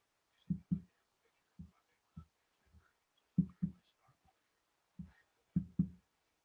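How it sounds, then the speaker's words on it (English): A heart beats in paired thumps, lub-dub, lub-dub, low and soft, repeating at a steady, slow rhythm with short silences between the beats. "Sounds like somebody's heart beating."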